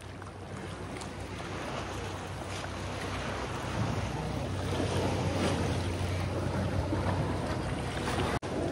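Rising sea waves off Talu Island, Thailand, rolling in as a broad continuous wash with wind buffeting the microphone, steady and fairly loud throughout, no voices, ending with a brief dropout.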